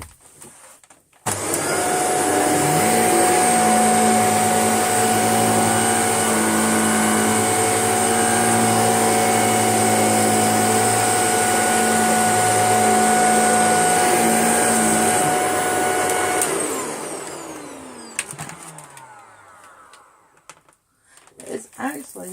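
A Tesco own-brand vacuum cleaner runs loud and close with a steady high whine and motor drone, then winds down near the end with a falling pitch and brief clatter.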